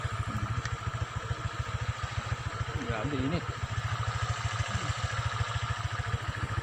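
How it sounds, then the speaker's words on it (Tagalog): A Honda Click motorcycle idles with a steady, rapid low thumping that runs throughout. Someone talks over the engine in the middle. "Dala natin yung motor natin na si Honda Click."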